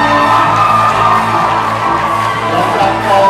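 An audience at a fashion show claps, whoops and cheers to welcome a model. The crowd roar is loud and continuous, with shouts rising above it throughout.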